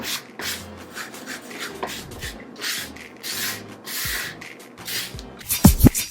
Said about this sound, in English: I'm not going to sand too much off